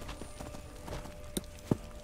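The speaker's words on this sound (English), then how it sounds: "Horse is attacking me." Horse hooves clip-clopping in the video game Skyrim, a quick run of soft, even hoofbeats that ends in two sharper knocks, close by with no talking.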